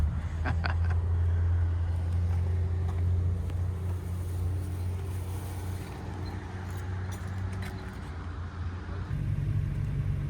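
A 1931 Ford Model A pickup out on a drive, its engine giving a steady low rumble throughout with road and wind noise on top and a few light rattles, no talking.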